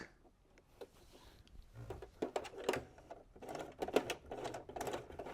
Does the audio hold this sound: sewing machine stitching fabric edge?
yes